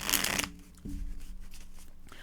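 A short burst of tarot cards being riffled and shuffled, crisp and close, then settling into quiet room tone.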